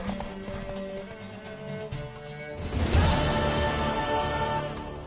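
A horse gallops in The Witcher 3, its rapid hoofbeats picking up and growing louder partway through over a steady musical score, with no voices.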